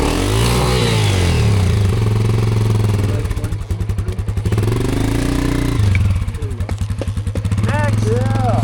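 An off-road adventure motorcycle revs hard and clatters over a log during riding training, its engine loud and close with rapid throttle surges, rattling and bumps, while people speak over the noise.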